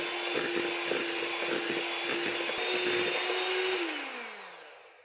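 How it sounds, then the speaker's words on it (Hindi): Brownie batter being beaten until creamy with an electric beater, a steady close motor whine with a constant pitch that runs for about four seconds, then winds down and fades as the beater is switched off. "इसे तब तक बीट करना है जब तक ये क्रीमी ना हो जाए।"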